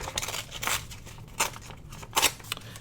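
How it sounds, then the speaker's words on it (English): An old calendar or magazine page being torn out by hand, several short papery rips and crinkles in bursts, close and crisp. "So I'm just going to tear this out."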